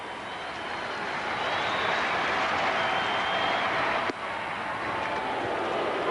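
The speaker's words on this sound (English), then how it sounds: "Sellout crowd on their feet." Sellout crowd at a 1998 Expos–Cardinals baseball game rising to its feet, a dense, continuous roar of cheering that swells and holds, with faint announcer talk beneath.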